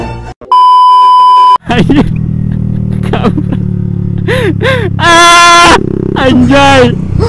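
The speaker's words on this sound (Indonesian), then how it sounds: "Ternyata ada domba-domba." Sheep bleating in a field beside a motorcycle drag race outing, several wavering calls standing out over a steady engine rumble, with a loud electronic beep near the start and brief talk.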